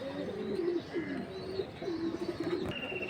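Pigeons coo at a busy pigeon market, several soft rolling calls close by, one after another against a low background murmur.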